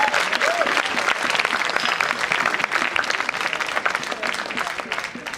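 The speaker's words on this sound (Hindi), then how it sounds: "एक बार आप तालियां बजा दीजिए" An audience at a Hindi-Urdu poetry recital (kavi sammelan/mushaira) claps steadily throughout, a dense, even wash of applause from many hands.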